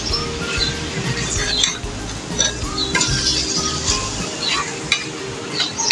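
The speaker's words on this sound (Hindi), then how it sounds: "दो से 3 मिनट तक हम इसको तेज़ आंच पे फ्राई करेंगे।" Beef liver stir-fried with spices over high heat: a loud, continuous sizzle with repeated metal scraping and stirring strokes against the pan, close by, without talking.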